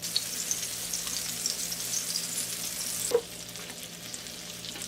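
Punjabi chapli kababs with tomato on top frying in ghee or butter, a steady bright sizzle close up that drops abruptly near the end after a brief clink.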